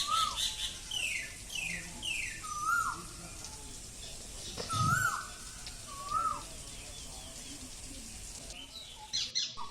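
An Asian koel calls in a rural Assamese courtyard during Bihu season, a series of repeated rising whistled notes, several in a row at a steady pace, moderately near with faint background chirps.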